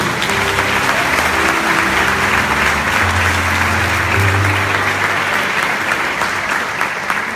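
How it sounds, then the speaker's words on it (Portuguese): A church congregation applauds the Lord during an evening service, loud sustained clapping from a large crowd, steady throughout with a few held tones and murmuring voices beneath it. "Aplaude mais uma vez a Senhor."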